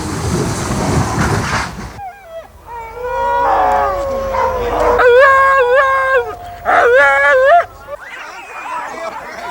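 Iditarod sled dogs howl close by after a brief burst of noise, several voices rising and overlapping in long wavering howls with short yips, loud and continuous throughout.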